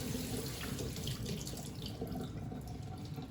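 Tap water runs steadily over vegetables being rinsed in a sink, a continuous close splashing rush with no talk.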